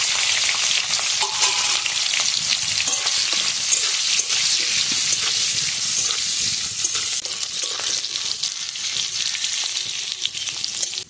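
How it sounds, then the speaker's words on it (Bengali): Loitta dried fish fries in oil with turmeric and salt, producing a loud, dense, unbroken sizzle heard up close throughout, with faint stirring underneath and no talking. "তো এর মধ্যে অল্প হলুদ অল্প লবণ দিয়ে ভেজে নেব।"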